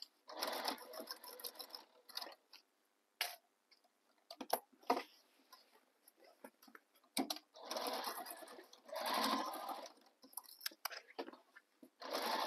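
Sewing machine stitching down a tote bag, running in bursts of a few seconds with pauses and small handling clicks between, the longest steady runs near the end; close and fairly quiet.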